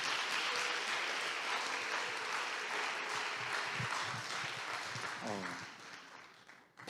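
A church congregation at a Sunday service gives long, steady applause for ministry staff, fairly distant and even, thinning toward the end as a voice starts speaking beneath it.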